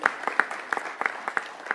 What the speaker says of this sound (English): Everyone should give a hand clap for that.